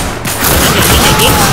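Heavy, loud gunfire from the first-person shooter The Darkness II, a dense wall of rapid shots filling the whole short burst with little variation and no talking.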